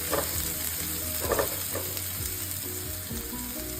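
Finely chopped onion and vegetables sizzling in a pan, a steady close frying hiss with occasional stirring scrapes, no talking.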